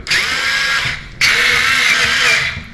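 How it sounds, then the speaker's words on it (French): A power tool loosens screws on the frame of a Flexispot motorized standing desk, running in two loud, close whirring bursts separated by a brief pause. "il va falloir desserrer donc les 4 vis qui sont présentes ici au milieu"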